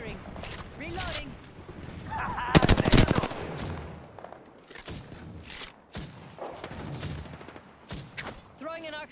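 Rapid bursts of automatic gunfire in a squad battle-royale shooter game, loud and repeated in several volleys, mixed with reload clicks and game voice callouts.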